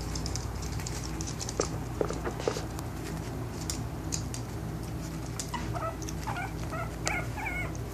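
A mother dog and her month-old puppies whimper and yip in soft, scattered bursts over a steady background hum, with a few sharper high whines clustering toward the end.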